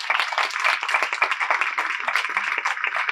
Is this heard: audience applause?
yes